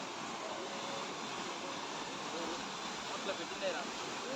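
Broadband rushing water from a stream visited during a Diwali outing, a steady continuous wash with no pauses and a few faint higher chirps riding on top.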